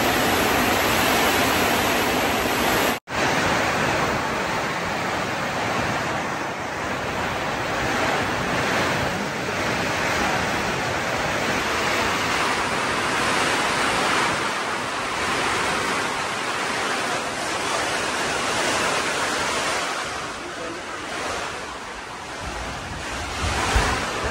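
Heavy rain and strong wind roar on a mountain in a dense, steady wash of noise that barely lets up, close and loud throughout, with no voices.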